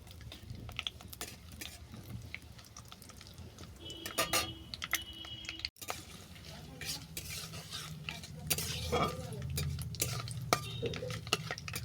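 Bay leaf and panch phoron spices fry in a pan with dried chilies, giving a soft sizzle under scattered stirring scrapes and light utensil clicks on the metal.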